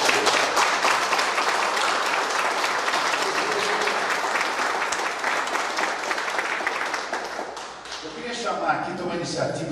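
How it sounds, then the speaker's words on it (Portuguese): An audience applauds at a union tribute to teacher Fernando Borges, with loud, dense hand clapping for several seconds that thins toward the end as voices and cheers emerge. "um aplauso para o Fernando"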